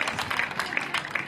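An audience at a national traditional dance competition claps for the National Assembly president, scattered, fairly quiet applause with a few sharper individual claps standing out.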